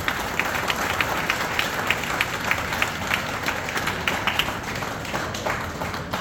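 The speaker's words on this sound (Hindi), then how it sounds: "जोरदार ताली हो जाए" Audience at a direct-selling product launch event in Nainital, Uttarakhand breaks into loud, sustained applause, a dense wash of many hands clapping steadily throughout with sharper individual claps standing out.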